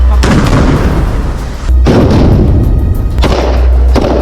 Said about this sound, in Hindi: इन्हीं टैंकों ने एक झटके में हमास के ठिकाने को धुआं कर डाला